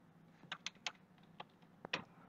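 Soft keystrokes on a computer keyboard, about eight separate taps with uneven spacing, faint and close, with no voice over them.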